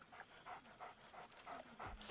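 The dog companion in Baldur's Gate 3 pants in quick, quiet, rhythmic breaths, mixed with faint whining, close by with no speech.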